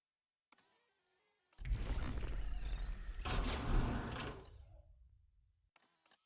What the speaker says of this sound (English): Did you open the door?